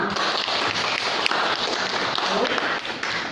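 A class of students claps together at the end of a lesson, producing a dense, continuous patter of many hands at moderate loudness, with a few sharper individual claps standing out.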